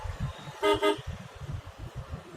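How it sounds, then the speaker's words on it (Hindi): Two short car horn honks in quick succession, loud and close, over low rumbling traffic noise while driving in Punjab. "2 बार हॉर्न मारो"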